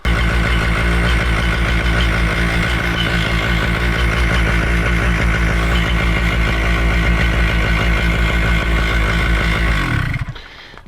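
Moster engine running warm and idling at high RPM with a lean low needle, a loud steady buzzing drone that holds for about ten seconds before cutting off abruptly near the end.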